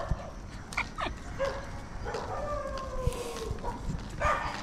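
A dog that ate poison bait gives faint whimpers and thin whines over steady background noise, with a few short yips and scattered sharp knocks.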